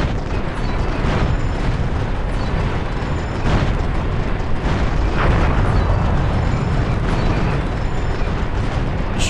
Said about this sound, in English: Destroying this hangar.